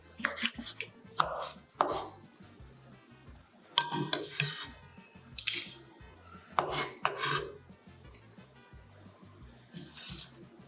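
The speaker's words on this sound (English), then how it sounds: "Slices 2 red chilies." A knife slices through two red chilies on a cutting board, making sharp, irregular taps and cuts that come close and clear, with short pauses between bursts.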